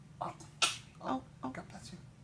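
A three-day-old newborn baby sneezes softly several times in quick succession, with a sharp burst standing out among smaller nose-and-breath sounds, while an adult voice talks gently nearby.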